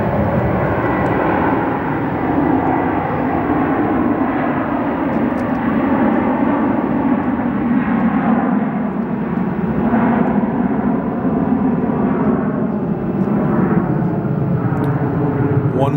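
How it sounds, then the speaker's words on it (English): Airliners at Phoenix Sky Harbor Airport waiting and departing: a constant loud roar of jet engines that goes on steadily for the whole stretch, with no voices. "Planes in every direction waiting to get onto the runway, so stay tuned for some more departures."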